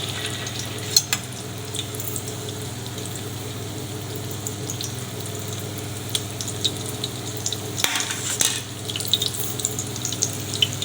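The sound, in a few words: shami kababs shallow frying golden on low heat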